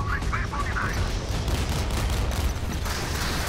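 Naval combat in the game Modern Warships, with rockets launching in a dense rumbling barrage of booms and blasts that runs continuously at steady loudness.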